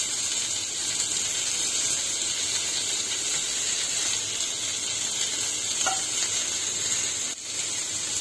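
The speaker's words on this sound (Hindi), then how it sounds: "फ्राइंग पैन रेडी है, इसमें हम अपना कबाब डाल देते हैं। गोला कबाब," Gola kebab sizzles in a frying pan, a steady close hiss of hot oil running the whole time, alone without talk, with a brief clink near the end.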